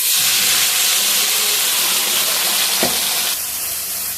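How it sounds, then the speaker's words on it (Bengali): Black cumin, bay leaf and dried chilli hit hot oil in a pan after fish has been fried, producing a loud, dense, steady sizzle and hiss that eases slightly near the end, with no voices. "এখন ফোড়নে দিয়ে দিচ্ছি কালো জিরে, তেজপাতা, শুকনো লঙ্কা"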